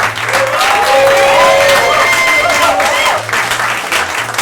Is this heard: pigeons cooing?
no